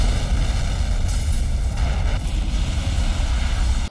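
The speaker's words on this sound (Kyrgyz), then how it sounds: "Бир мезгилде катуу жарылуу болуп," A car blows up in a film after leaked propane gas ignites, heard as a sustained loud low roar and rumble that fills the whole stretch without pause.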